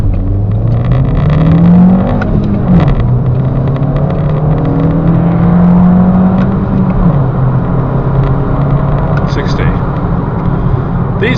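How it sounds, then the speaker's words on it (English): A 2011 Audi A3 Sport TFSI accelerates hard from a standstill in a 0 to 60 run, the loud engine climbing through the revs with clear gear changes, heard from close up inside the car alongside a speaking voice. "Let's start off with the 0 to 60 test."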